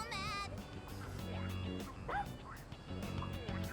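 Angry dog barking in the video game Persona 3 Reload, sharp yips and barks scattered through a busy game soundtrack with voices, fairly close and moderately loud.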